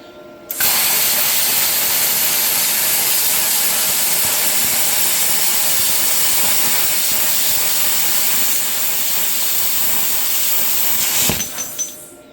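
A Vevor Cut 50 plasma cutter turned up to full power cuts thick metal with a loud, steady roaring hiss that runs unbroken for about ten seconds, then sputters and stops.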